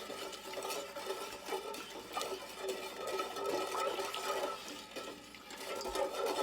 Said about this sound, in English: I'm gonna add a little more salt. I'm gonna stir that up and see what happens.